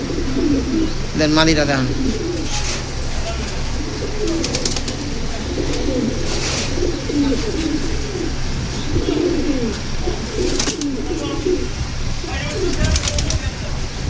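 Pigeons coo in soft, repeated low phrases through most of the stretch, with occasional brighter chirps and a brief wing flap, while someone talks over them close by.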